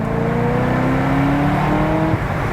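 A Corvette ZR1 with a manual gearbox accelerates hard in second gear, its engine note climbing steadily and loudly over about two and a half seconds, close and continuous with no talking.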